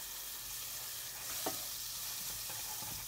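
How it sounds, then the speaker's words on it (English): A soft, steady sizzle of French toast frying in butter in a skillet over medium heat, with a brief clink of a utensil partway through. "start frying the rest of our French toast."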